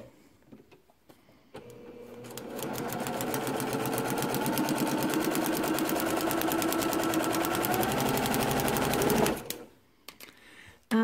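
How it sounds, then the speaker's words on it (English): A sewing machine stitches a quilt block seam at a short stitch length, a fast, steady, loud mechanical whir lasting several seconds between quieter handling sounds. "slide it into the machine, and I'm going to sew the seam between 1 and 2."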